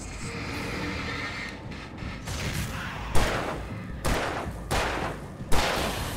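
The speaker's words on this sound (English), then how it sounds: "That was a flashbang I had." Flashbang grenade detonating in the Alan Wake video game, heard as a series of sharp, loud bursts in a close, rapid sequence over a dense rumbling background of game noise.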